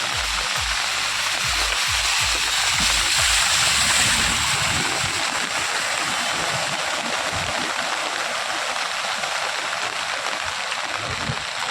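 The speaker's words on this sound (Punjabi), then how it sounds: "ਪੂਰਾ ਪਾਣੀ ਪਾਣੀ ਗਲੀ 'ਚ ਦੇਖੋ" Rainwater rushing along a flooded street in Chandigarh after heavy rain, a loud, steady broadband wash of flowing water with some low splashing thumps early on, no voices.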